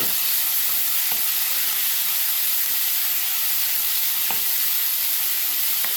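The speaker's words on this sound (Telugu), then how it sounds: "ఉల్లిపాయ పచ్చిమిర్చి కలిపేసేస్తున్నాను" Chopped onions and green chilies fry loudly in hot oil for a chicken gravy curry, a dense close sizzling hiss running throughout, with a few brief scrapes from stirring.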